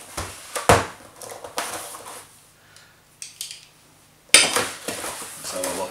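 A knife slices through packing tape on a cardboard box holding an Aqua One Ocellaris 850 aquarium, giving a few sharp, close scraping and ripping bursts separated by short pauses.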